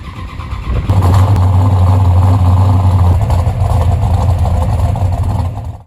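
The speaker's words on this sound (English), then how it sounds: "They bought it for the Hemi roar that commanded just the right dose of attention" A Plymouth GTX muscle car's Hemi engine roars loudly and close up, a deep sustained rumble that holds steady for several seconds with no voices over it.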